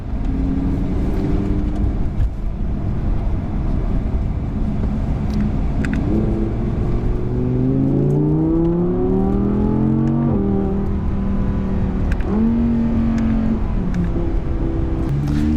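An Audi car rolls along a racetrack on a slow parade lap with a steady, loud engine rumble and tyre roar, the engine note rising and falling with gentle acceleration throughout, no talk.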